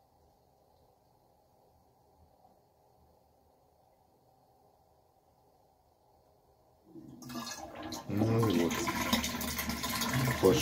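Water overflows from a faulty toilet cistern into the bowl. A faint trickle and hum gives way to a loud, steady rush that keeps running, with a brief spoken phrase near the start.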